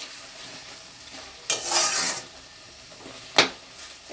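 Stuffing for pui leaf fritters stir-fried in a pan: two distinct spatula scrapes, the first longer and rustling, the second a short sharp stroke, over a faint sizzle, close by.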